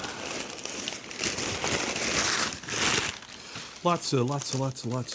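Paper crumpling and crinkling while a mailed package is unpacked, a dense rustling burst up close that runs for about three seconds before a voice starts talking over it.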